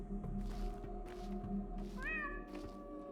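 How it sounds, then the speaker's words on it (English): A cat meowing in the video game Pathologic 2, several short, close meows with a rising wavering call near the end, over a low steady hum. "if I hear a cat meow, I have to meow back."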